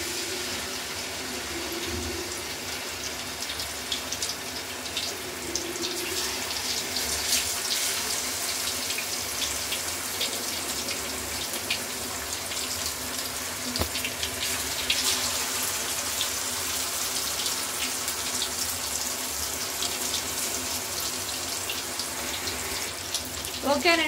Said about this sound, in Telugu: ఫ్రై చేసుకుందాం ఇంకా ఆయిల్లో వేసేసి.